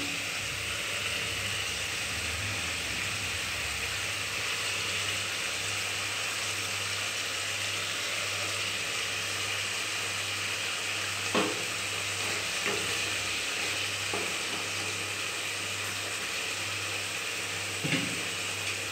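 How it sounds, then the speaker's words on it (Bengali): Pre-fried eggplant pieces go into a pan of spices for doi begun, and a continuous even sizzle fills the scene, broken only by a couple of faint clicks and scrapes. "এবার এর মধ্যে আমরা দিয়ে দেব আগে থেকে ভেজে রাখা বেগুনগুলো।"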